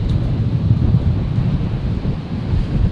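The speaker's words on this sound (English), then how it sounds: "that wind is crazy at the moment" Strong gusty wind at Brisbane International Airport batters the microphone in a heavy, continuous low rumble that surges and eases across a few seconds.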